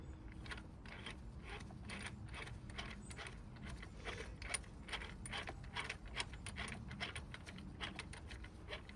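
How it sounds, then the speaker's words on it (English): Metal tool being screwed onto a fuel injector puller adapter on a car engine, giving steady small clicking and scraping mechanical noises throughout, close and moderately loud with no talking. "You screw this on top of the injector puller adapter for whatever size injector you have."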